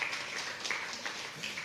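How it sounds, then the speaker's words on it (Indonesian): A church congregation claps during a worship service, a short, moderately loud burst of mixed clapping that stays fairly even across its brief span. "Tepuk tangan untuk saudara."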